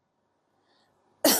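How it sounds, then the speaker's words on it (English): A single sharp cough into a OnePlus 11 phone held close to the microphone, after a moment of near silence. "simply cough into your phone for 10"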